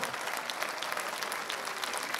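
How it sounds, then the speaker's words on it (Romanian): An audience at a concert at the Reduta Cultural Centre in Brașov applauds: dense, steady clapping from a full hall, with no voices over it. "Haideți să aplaudăm Jandarmeria Română și Inspectoratul Județean Brașov!"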